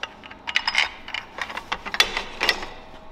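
Metallic ratchet and pawl clicks sound in irregular bursts during a utility trailer build, light, close and fairly quiet, with no voices over them.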